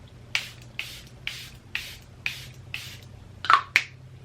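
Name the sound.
setting spray being sprayed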